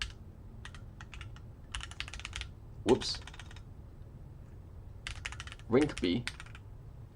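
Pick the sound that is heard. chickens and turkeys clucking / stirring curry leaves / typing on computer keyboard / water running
typing on computer keyboard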